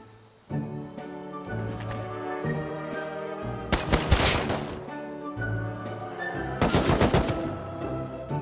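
Rapid video game gunfire crackles in sharp automatic bursts, two loud dense volleys standing out over a steady background of game noise and music.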